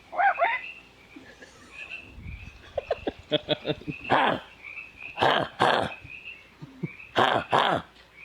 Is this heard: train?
no